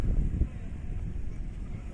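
Wind buffets the microphone in a low, rough rumble that gusts slightly louder at the start, with no clear voices over it, at a private beach resort in Al Khobar.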